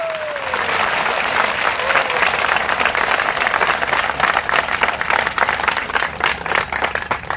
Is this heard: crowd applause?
yes